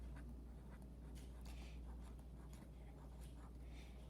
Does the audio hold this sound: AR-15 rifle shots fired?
no